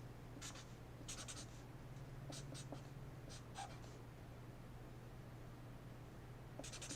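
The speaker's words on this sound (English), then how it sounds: "Let me write out the first set." Pen strokes writing out cipher text on paper in a quiet classroom setting, faint scratchy bursts in short irregular groups over a steady low hum and background hiss.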